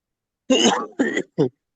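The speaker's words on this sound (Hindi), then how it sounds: "हमें पता चल गया कि आपको खांसी है" A person coughs three times in quick succession during an online Urdu-language Pakistan Affairs essay class, close to the microphone, each burst short and harsh, with silence before and after.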